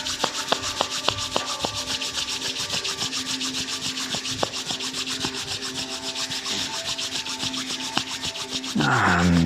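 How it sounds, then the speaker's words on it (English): Palms rub together briskly to build heat during a hatha yoga session, a continuous close, loud dry swishing friction lasting several seconds, alone without talk. "Just rub the palms together to create some heat."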